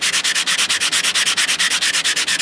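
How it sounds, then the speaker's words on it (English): Sandpaper scrubs the inside of a coin ring in quick, steady back-and-forth strokes, a loud, close, rhythmic scratchy rasp repeating about seven times a second with no voices. "You take your sponge or your sandpaper and you just put your ring down and you just sand that"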